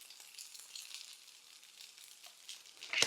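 Butter sizzles in a frying pan with vegetables for a smoked salmon penne, a soft continuous crackling hiss up close, with a louder stirring scrape at the end.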